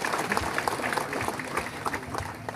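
An audience at a groundbreaking ceremony claps in a brief burst of applause, dense and fairly close, lasting a couple of seconds.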